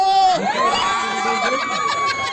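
A crowd cheers and shouts loudly and steadily at a community basketball league game in the final quarter, with whoops rising over the din.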